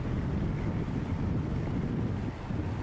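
A fishing boat speeds up near Lagi port, a dense low rumble of engine and churning water mixed with strong wind buffeting the microphone, steady and loud throughout.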